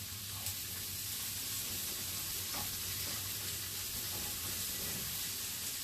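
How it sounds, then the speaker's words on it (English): Onions and garlic sautéing on low heat in the grease left from cooking fish, a steady close sizzle and hiss that runs evenly throughout with no talk. "Saute your onions and your garlic."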